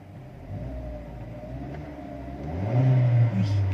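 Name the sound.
2018 Kia Picanto 1.2 engine revving, doors closed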